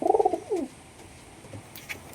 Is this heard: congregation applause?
no